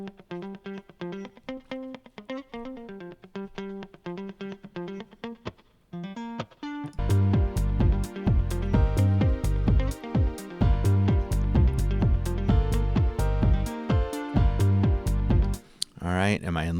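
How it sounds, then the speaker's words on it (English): An electric guitar plays a funky house rhythm pattern with bright plucked notes, first alone, then joined by a heavier beat and bass from about six seconds on. "So my guitar sounds like this on its own."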